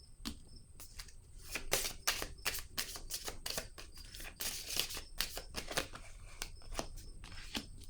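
Tarot cards shuffled and drawn by hand, a close run of quick papery riffles, flicks and snaps repeating in an uneven rhythm, with a soft hum beneath.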